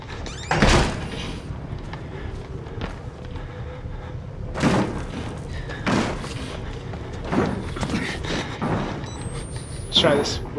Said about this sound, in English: Can we shut this door?